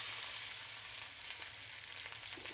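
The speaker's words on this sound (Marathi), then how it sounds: "आता मी ही भेंडी फक्त भाजून घेणार." Okra frying in hot oil, a steady, dense sizzle with faint crackles running evenly throughout at moderate level, no voices.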